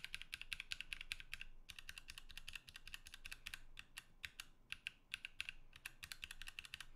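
Tealios mechanical keyboard switches, some lubed, are pressed close up in quick bursts of crisp clacks, a dense irregular rhythm with brief pauses, each keystroke sharp and distinct.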